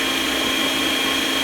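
A small kitchen blender whirs steadily as it mixes pasty dough for Cornish steak and onion pasties, a loud continuous motor drone close by with no talk.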